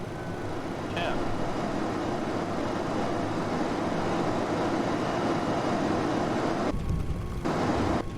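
Thrust reversers roar on an IXEG 737-300 landing in the X-Plane 11 flight simulator, a steady loud broadband rush of engine noise that holds throughout with a brief surge near the end.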